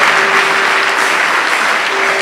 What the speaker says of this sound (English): Let's clap for Josiah and Steve